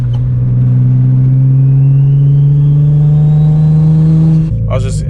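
A turbocharged G35 engine revs loudly and close up, its pitch climbing steadily for several seconds before dropping off abruptly. A brief hesitation near the end is masked by a burst of speech.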